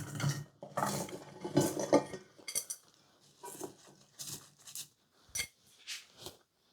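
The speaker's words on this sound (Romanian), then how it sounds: "kilogramul de ceapă, îl vom pune într-o oală." A kilogram of onions goes into a cooking pot with a series of clattering, rustling knocks against metal, irregular bursts separated by short pauses.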